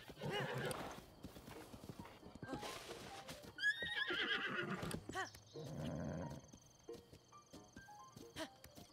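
Horse hooves clop in quick bursts in the video game The Legend of Zelda: Breath of the Wild, broken up by several high, shrill whinnies and snorts, close and clear.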